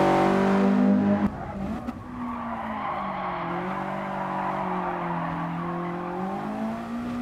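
Tires of a touge-tuned Kyodo AE86 squeal loudly through a drift in Gran Turismo Sport, a sustained screech over the droning engine that starts with a high revving note, then holds a long steady wail.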